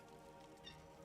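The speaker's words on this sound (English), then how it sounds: "we have a cat on the keyboard" A pet cat named Latte meows once, close by, while perched on a computer keyboard, over a low steady hum of background music.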